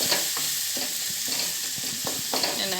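Tomatoes cooking in a spiced tempering, a steady close sizzle broken by repeated scraping stirs of a spoon against the pan.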